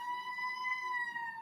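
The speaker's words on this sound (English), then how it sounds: "Ambulance." An ambulance siren holds a steady wailing tone, clear and moderately loud, heard alone for a brief stretch.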